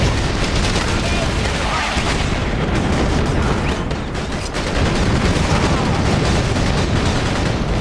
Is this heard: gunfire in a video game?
yes